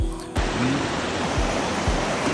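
A Kashmir mountain river rushes over stones, a loud, close, continuous roar of churning water with a few low thumps.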